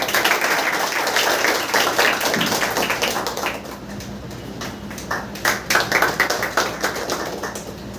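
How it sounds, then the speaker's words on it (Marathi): A room full of people at an academy felicitation event clap in a dense, sustained round of applause that thins into scattered claps, heard fairly loud and close. "टाळ्या वाजवा."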